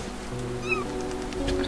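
A cat meows once in the fantasy hidden-object game Grim Legends, a short rising-falling cry over a steady low ambient hum.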